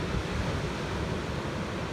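A small storm churns the sea at Cape Aya nature reserve in Crimea, with high waves and strong wind. Dense, steady broadband surf roars without pause and is mixed with wind buffeting the microphone. No voices are heard.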